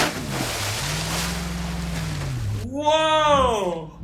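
Wind and water wash with a low engine hum as a vehicle drives into deep water in the BeamNG.drive driving game, followed by a rising, warbling tone near the end.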